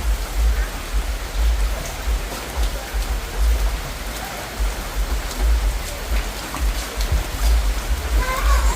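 Steady, dense rainfall close by at a jungle camp in Suriname, a continuous hiss of drops with low rumble underneath and no break throughout.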